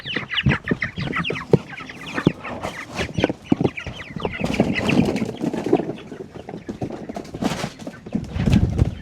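A flock of Cornish Cross meat chickens outdoors on grass clucks and murmurs continuously, with scattered sharp clucks and rustling close by, no talking.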